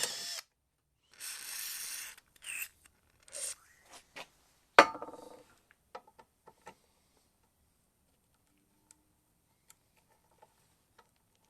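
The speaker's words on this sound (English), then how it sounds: "But we'll drill that out and we'll tap it for this size bolt." Power drill boring out a stripped bolt hole in soft aluminum, heard as several short bursts of drilling close up, separated by pauses and followed by scattered small ticks and clicks.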